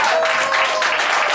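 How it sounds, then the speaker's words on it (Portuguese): Guests clapping for the honoree at a birthday celebration, a brief, loud and steady burst of applause with no pauses. "Uma salva de palmas para o nosso"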